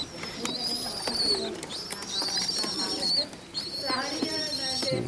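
Pigeons in a breeding box coo repeatedly at close range, with soft overlapping calls and some chirping over a steady background hiss.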